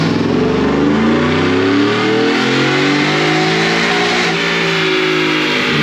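A 2021 Ford F150 fitted with a Whipple supercharger roars on a dyno, its engine revving hard and climbing steadily in pitch, loud and close throughout.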